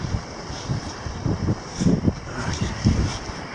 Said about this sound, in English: here you can see some of the open water causing the splashing